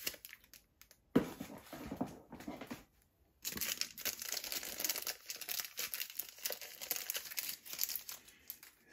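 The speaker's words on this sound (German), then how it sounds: "Was noch komplett eingepackt ist, packen wir natürlich jetzt aus." A part for a Star Wars R2-D2 build kit is unwrapped from plastic packaging, giving close, intermittent crinkling and tearing rustles in uneven bursts with short pauses between them.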